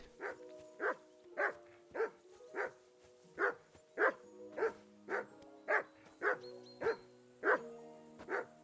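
A dog in the video game Kingdom Come: Deliverance 2 barks repeatedly, a dozen evenly spaced loud barks over a steady low background, with no talking.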